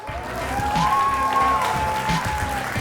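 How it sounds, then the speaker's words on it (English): Crowd applause and light cheering at a Clash Royale tournament in Helsinki, a steady wash of clapping under a sustained tone and faint talk. "Ladies and gentlemen, round of applause"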